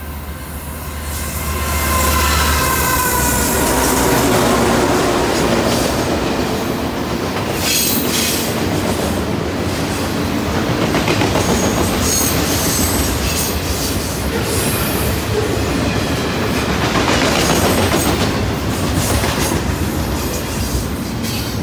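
A CN freight train with an EMD 7201 locomotive trailing second rolls past close by on the Halton Sub, a loud, sustained rumble with clattering wheels and intermittent squeals lasting throughout.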